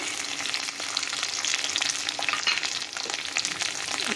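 Chopped tomato sizzles and crackles steadily in a hot pan while being cooked for a pumpkin-leaf bharta, a continuous close frying hiss with soft stirring and no voices.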